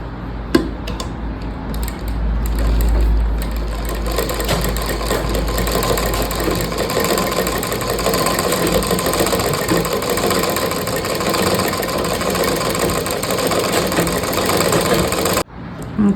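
A sewing machine running steadily while stitching a blouse shape belt, a continuous close mechanical hum and rapid needle rattle lasting most of the stretch before stopping abruptly, with no voices.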